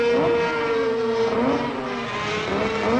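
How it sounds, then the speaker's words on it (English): Yamaha racing motorcycles of the 1968 Isle of Man TT roar off the start together, a loud, continuous high-pitched two-stroke engine drone with rising and falling revs, close by and without talk. "Here are the Yamaha machines getting started."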